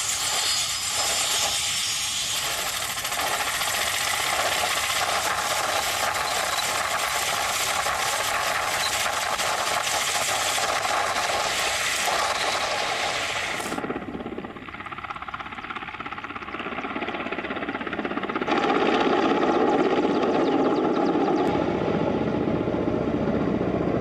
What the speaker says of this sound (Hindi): रूस की के-52 हेलीकॉप्टर से हमले की तैयारी चल रही है।